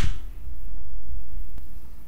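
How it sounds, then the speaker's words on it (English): A single sharp hand clap close to the microphone starts things off. A low room rumble follows, with one faint click about a second and a half later. "This the thing YouTubers do where like they clap and it syncs the mic"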